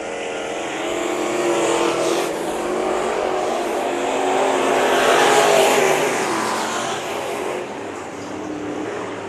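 Race cars roaring around Bakersfield Speedway during a heat race, a continuous loud engine drone that swells as cars pass closer and fades slightly, with a faint announcer voice underneath.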